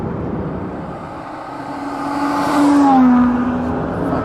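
A track-only Aston Martin One-77 EVO, running on Pirelli tyres, warms up with a steady low engine drone that swells and rises in pitch for a moment as it revs, then settles back, sounding fairly close.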